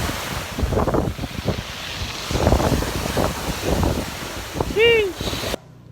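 Big ocean waves surging and breaking in strong wind, a rolling roar with heavy wind buffeting on the microphone, and a brief whistling tone near the end before the sound cuts off.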